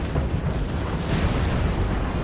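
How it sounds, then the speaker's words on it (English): Artillery batteries fire in a Napoleon Total War land battle against Spanish cannons, a dense continuous rumble of overlapping booms and blasts, loud and steady throughout with no talk. "the Spanish cannons are getting absolutely demolished by my batteries"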